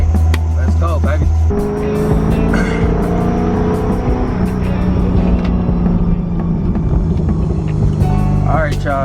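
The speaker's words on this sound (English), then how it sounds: "Almost forgot the cold start. Can't forget the cold start." A supercharged Chevrolet Camaro engine cold starts with a loud crank and catch, then settles into a steady, heavy rumble with supercharger whine. It stays loud and close throughout, with speech briefly over it near the end.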